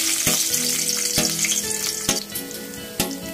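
Garlic frying in hot cooking oil for Filipino pakbet, a loud, close sizzle broken by several sharp clacks of a spatula against the pan, with no one speaking.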